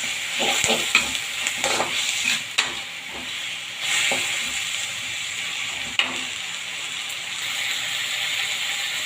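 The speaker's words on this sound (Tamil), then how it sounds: "இதெல்லாம் கொஞ்சம் நல்லா வதங்கட்டும்" Chicken curry ingredients sauté in a pan with a steady sizzle throughout, broken by repeated scraping stirs and clinks of a spoon against the pan, close and prominent with no talk.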